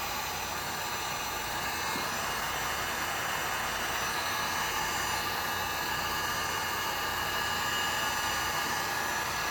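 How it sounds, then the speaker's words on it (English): A heat gun blows hot air onto resin poured on a tabletop, a loud, steady close-up roar that runs unbroken throughout. "So let's load the heat gun again."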